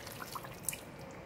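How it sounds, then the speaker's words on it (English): Water poured from a mug into simmering pineapple curry gravy with soft meat, a brief low liquid trickle with faint drips, quiet and close. "I'm going to add on just about 1/2 mug of water."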